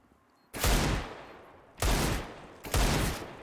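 Three sharp gunshot bursts ring out during a Counter-Strike match: one hits, then a pause, then two more in quick succession. Each is loud and close and has a short decaying tail.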